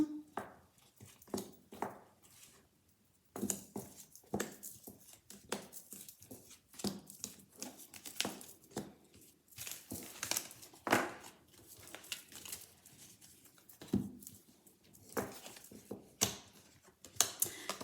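Tarot cards shuffled and drawn, with a steady run of soft papery riffles, flicks and taps close by, interrupted by short pauses.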